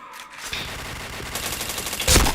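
Rapid gunfire in a shooter video game rattles in dense, rhythmic bursts, loud and continuous, with a sharper burst near the end.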